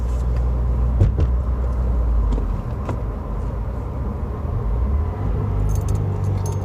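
A 2017 Subaru WRX with a drop-in filter running on a stage 1 map, its engine droning steadily around 3,000 RPM from inside the cabin, with a few brief knocks and rattles from the road.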